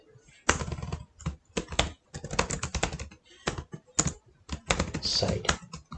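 Bursts of rapid clicking come from a computer keyboard being typed on, close and fairly loud, in quick runs separated by short pauses.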